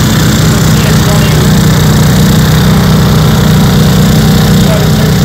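Two Honda generators running together in eco mode, a loud, steady, close engine drone with an even low hum throughout.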